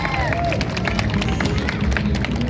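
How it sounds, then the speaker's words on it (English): Street audience clapping and cheering for a juggling act at dusk in downtown Belleville, a dense, steady wash of crowd applause lasting throughout with some voices mixed in. "they didn't clap as loud the second time"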